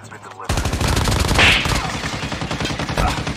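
Rapid gunfire in a Call of Duty Mobile battle royale match, a dense, loud burst of repeated shots firing in quick succession for about three seconds, with a brighter impact crack near the middle.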